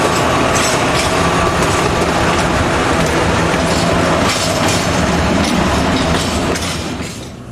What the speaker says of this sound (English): This is M43 1123 at Tapolca.